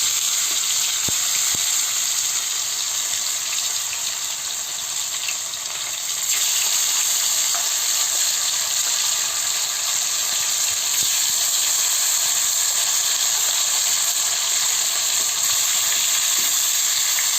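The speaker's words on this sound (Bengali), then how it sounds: "তেল গরম হয়ে গেছে, আমি এবার মাছটা দিয়ে দিচ্ছি।" Silver carp pieces, rubbed with salt and turmeric, fry in hot oil with a loud, continuous sizzle and hiss that brightens partway through.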